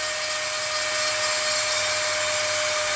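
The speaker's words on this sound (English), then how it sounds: "you want to take your Dremel and start dremeling away" Dremel rotary tool grinding away plastic on a damaged electronic component, a steady, loud high-pitched whine with a constant tone that runs unbroken throughout.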